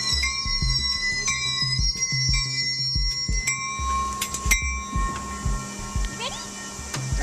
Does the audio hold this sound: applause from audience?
no